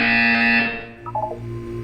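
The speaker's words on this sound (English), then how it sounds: "You will hear a buzzer" A harsh electronic buzzer in the video game Portal 2, one loud sustained tone lasting under a second that cuts off, followed by a few faint short beeps.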